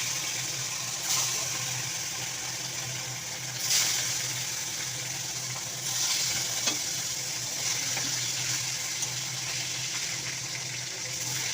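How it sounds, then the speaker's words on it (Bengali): Turmeric and salt rubbed fish fries in hot oil in a wok with a loud, steady sizzle and hiss throughout, marked by a few brief surges of spitting and crackling. "কড়াই তেলটা গরম হয়ে গেছে, এবার আমি মাছটা ছাড়লাম,"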